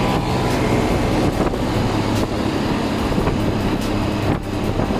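A Bajaj Pulsar 220 cc motorcycle rides slowly in third gear, its steady engine drone buried under heavy, constant wind rush across the microphone.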